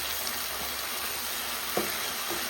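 Chicken frying in a pan with curry leaves and unpeeled washed garlic cloves, a steady, even sizzle with faint ticks and a soft stir, no voices.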